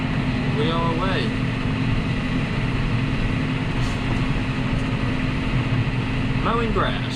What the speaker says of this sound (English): Mowing grass.